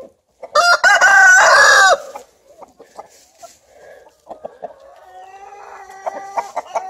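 Sussex rooster crows loudly and close for about a second and a half, then Sussex hens cluck softly and intermittently in a farmyard in Çağlarca, Antalya, with a few sharper calls near the end.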